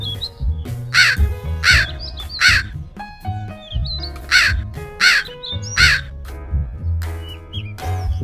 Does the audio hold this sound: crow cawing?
yes